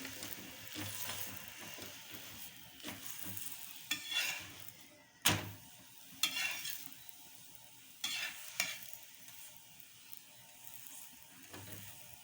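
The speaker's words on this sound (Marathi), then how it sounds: "चांगला एक सारखा असा भाजून घ्यायचा दाबून दाबून." A cauliflower paratha roasts on a hot pan with a continuous quiet sizzle while a spatula presses and scrapes it repeatedly, giving irregular soft thumps and rasps, one sharper knock midway, with no speech.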